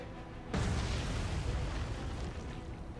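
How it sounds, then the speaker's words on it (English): Naval guns fire in the War on the Sea video game, one sudden heavy boom followed by a long, rumbling roar that stays loud and dense to the end, with no voices. "Prepare to fire the guns at him."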